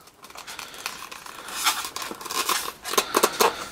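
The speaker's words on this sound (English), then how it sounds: "Sometimes the flaps on these boxes can just be a pain in the butt trying to get them open without ripping them." Cardboard flaps on the box of a 1/32 scale Joal JCB 4CX backhoe diecast model are pried open, giving close scraping, rubbing and tearing-like rustles that grow busier toward the end, with no talk.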